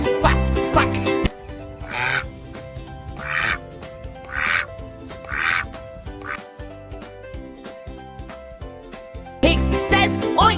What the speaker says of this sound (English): Duck says quack quack.